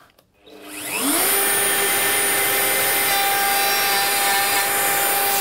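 A woodworking machine cuts wood for a bedside cabinet while dust extraction runs, a loud, steady broadband roar with a sustained whine that rises to full level in the first second and holds without pause.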